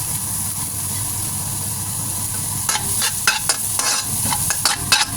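Garlic fries in a pan for a shrimp and broccoli udon dish, a steady close sizzle joined in the second half by a run of scraping stirring strokes.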